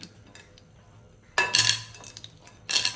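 Ice cubes lifted out of a bowl of chilled cooked red rice being turned into pazhankanji, giving two bright clinking bursts against the bowl amid quiet kitchen background.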